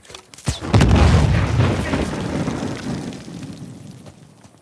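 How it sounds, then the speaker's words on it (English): A deep explosive boom rumbles through Uncharted 4 as dynamite blasts open rock for excavation, a sharp crack followed by a long rolling, debris-filled roar that slowly fades away. "Dean hasn't given up on excavation by explosions"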